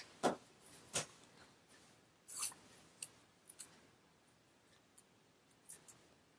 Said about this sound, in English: I'm just using the ruler that came with my planner to cut the washi.